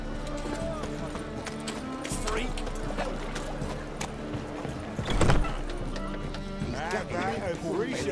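Horse hooves clip-clop steadily in The Witcher 3, a continuous trotting rhythm under game music and ambient sound, with a brief louder hit partway through.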